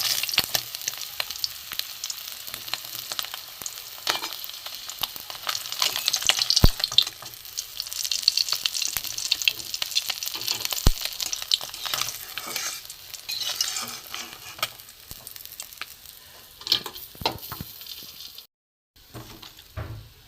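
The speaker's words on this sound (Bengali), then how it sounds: "কতটা মাছ ভাজা হয়ে গেছে, বাটা মাছ ভাজা" Bata fish frying in hot oil in a pan, a steady close sizzle and crackle with occasional sharp pops and brief scraping of a utensil, fading briefly near the end.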